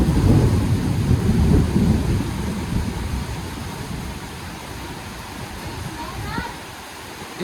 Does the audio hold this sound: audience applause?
no